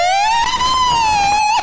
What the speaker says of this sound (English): Is that a police siren?